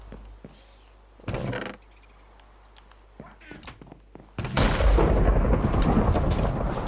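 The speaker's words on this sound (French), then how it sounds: "il y a toujours de l'orage" Thunder crashes during a thunderstorm in the Minecraft video game, a loud rolling rumble building at the end after a few sharper bangs and quieter game sounds.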